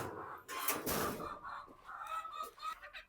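Free-range chickens cluck and squawk close by in a busy, overlapping flurry, with scattered clucks trailing off afterward.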